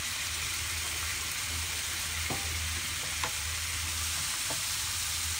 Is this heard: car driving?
no